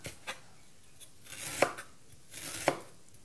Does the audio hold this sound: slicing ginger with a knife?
yes